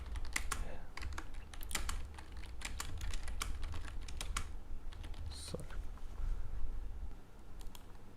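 Typing on a computer keyboard while entering text in Solidworks, a rapid, irregular run of close, crisp key clicks that continues steadily over a low hum, with brief faint speech mixed in.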